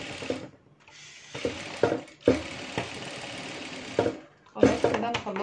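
A sewing machine stitches a blouse sleeve in several short whirring runs separated by quiet pauses, close and fairly loud.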